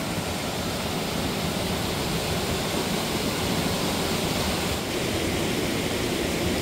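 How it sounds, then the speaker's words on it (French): A waterfall roars steadily as a dense, unbroken rush of falling water, loud and even throughout with no voices. "Elle est par là la cascade."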